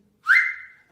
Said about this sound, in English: now if you can whistle on your own, or if you can use your 2 fingers